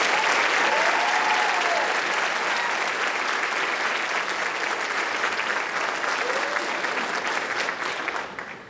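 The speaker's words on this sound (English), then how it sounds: "let's give our members of our armed forces a big round of applause" At a school honors night, the audience applauds members of the armed forces, a loud, full, continuous round of clapping that holds steady before tapering off at the very end.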